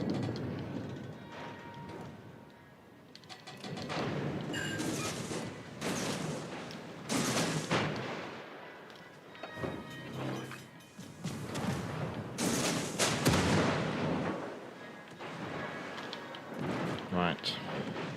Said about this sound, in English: I think our battleship has finally twigged that he needs to shoot stuff.